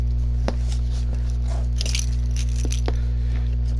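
Keys scrape, tear and jab at drawn packing tape across a cardboard box from a comic book delivery, giving scattered crunchy scratches and clicks over a steady low hum, close up, with no talking.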